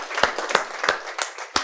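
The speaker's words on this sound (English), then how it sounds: "Give yourselves a round of applause." A small group in a class gives themselves a round of applause, a short burst of close, distinct hand claps in a loose uneven rhythm, fairly loud and with nothing else over it.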